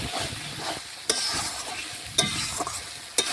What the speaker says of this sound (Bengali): চিকেনের গায়ে যেটুকু জল আছে সেটাও কিন্তু দেখুন এইভাবে নাড়াচাড়া করে আমি কষিয়ে নিচ্ছি।